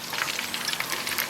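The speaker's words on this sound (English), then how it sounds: "you can let one of them rest while you fry the other one" Batches of fries for moules frites crackle and sizzle steadily in hot frying oil, a soft, dense hiss of tiny pops with no voices.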